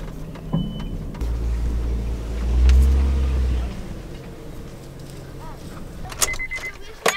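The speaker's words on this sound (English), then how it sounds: "I'm pulling the van through here to get my power." A van is driven slowly up to a pump, its engine rumbling low and steady for a few seconds before easing off, with small clicks and handling noises around it.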